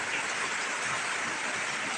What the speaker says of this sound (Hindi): तेज़ बारिश हो रही है, पेड़ वेड़ सब अच्छे मस्त हरे हरे हरे हैं।